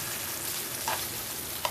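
Thick surmai (kingfish) steaks shallow-frying in oil, Malvani style: a steady, soft sizzle runs throughout with a couple of brief brighter crackles near the end, no voices.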